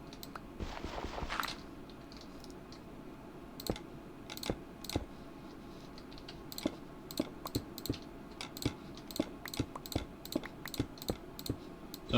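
A computer mouse with a worn spring clicks repeatedly during Minecraft play, sharp close clicks coming in irregular bursts that grow denser toward the end, over a quiet room background.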